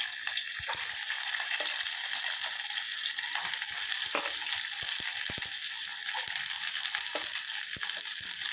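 Small onions sizzle steadily in hot oil in a pan after fennel seeds, the base for a mutton liver gravy; the frying hiss is continuous and close, broken by light clicks and stirring scrapes, with no talking.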